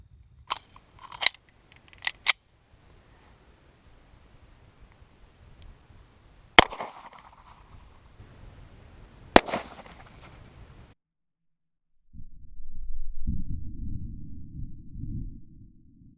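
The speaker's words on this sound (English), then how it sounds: "First up, the 9mm against the cinder blocks." Sharp, loud 9mm gunshots strike cinder blocks outdoors, a few isolated cracks spaced by long quiet gaps, with a duller rumbling thud and rustle near the end.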